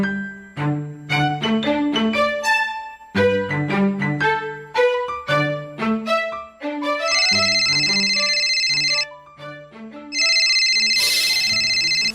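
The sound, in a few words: phone ringing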